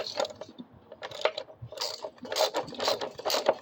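A wrench tightens the front wheel nut on a Coleman B200RSV minibike during a 10-inch rim install, producing quick bursts of close metallic ratcheting clicks that repeat in uneven clusters.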